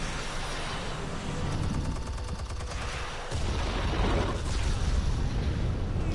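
Explosion in the Batman Telltale Series video game, a loud burst of rapid blasts and crackling gunfire-like bangs with a deep rumble swelling midway, filling the whole clip.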